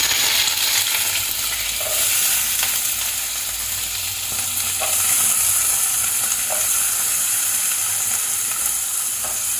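Green beans fry in a pan with a steady, dense hiss and crackle of hot oil that runs throughout, broken by occasional faint taps from stirring.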